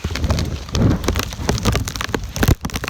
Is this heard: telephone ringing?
no